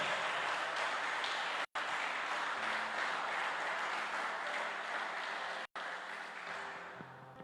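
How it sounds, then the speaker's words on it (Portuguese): A church congregation applauds during a Pentecost service, the steady clapping filling the space for several seconds at moderate distance, with two brief cut-outs and no talking. "se quiser dar um aplauso a ele,"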